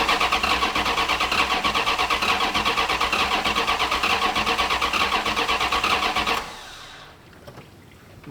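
A turbocharged V8 police car engine with EFI and custom exhaust cranks on the starter in a steady, rapid rhythm for about six seconds without catching, then falls quiet.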